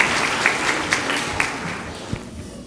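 Audience applause at a nurse aide and EMT recognition ceremony as a speaker is welcomed, a steady wash of many hands clapping in a hall with a few sharper individual claps standing out, fading slightly toward the end.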